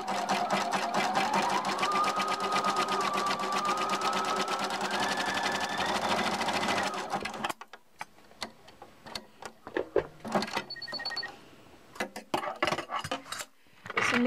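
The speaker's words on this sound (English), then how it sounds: "we're going to finish that seam either with your serger or a nice zigzag" A serger or zigzag sewing machine finishes the seam on a child's party dress with a long continuous rattling run, close and steady, then stops, followed by scattered light clicks and handling sounds.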